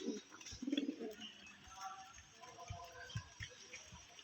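Pet pigeons kept by children next door coo in soft, low, repeated bursts close by, with faint rustling and scattered background noise around them.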